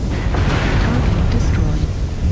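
Explosion of a destroyed target in MechWarrior Online, a heavy, rumbling low-end blast that rolls on continuously at close range for a couple of seconds.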